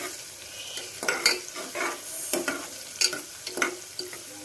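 Chopped dosakaya and other vegetables fry in a pan, a soft sizzle under repeated scraping stirs of a spoon against the metal, several strokes in uneven rhythm, close and moderately loud.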